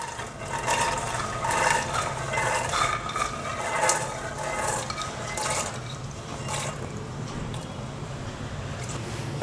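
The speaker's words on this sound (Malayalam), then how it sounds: "അതുകൊണ്ട് ഞാൻ ഈ വെള്ളം തന്നെ ചേർത്ത് കൊടുക്കുന്നുണ്ട്." Water used to wash chickpeas is poured into a pressure cooker, making a continuous, close, gurgling splash with small clinks from the pot, and no one speaking.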